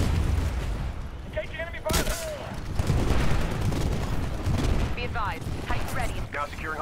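Gunfire and explosions in the video game Titanfall, with dense bursts of weapon fire, heavy booms and rapid shot clusters mixed with whooshing effects and radio-style voice callouts through the battle.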